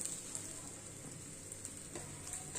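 A thin spinach thepla flatbread roasts on a hot pan over a high flame, giving a quiet, steady sizzle with faint crackles throughout and no voices.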